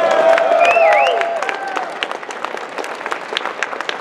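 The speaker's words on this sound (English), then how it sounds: "please give them all a round of applause" An audience at the Anime NYC convention in New York applauds, starting over a brief tonal chime and whistle-like cheer, then settling into scattered clapping that thins out and stays moderately loud.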